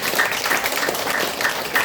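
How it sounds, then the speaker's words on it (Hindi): An audience breaks into enthusiastic clapping at a gathering, a dense, steady patter of many hands held at an even level throughout with no voices over it. "के लिए जोरदार ताली बजाएंगे सभी लोग"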